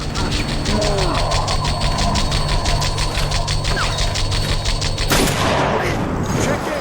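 Gunfire in a firefight from the time-control shooter TimeShift: rapid bursts of automatic weapon fire rattle continuously and loudly, ending in a sharp blast near the end, with no voice over it.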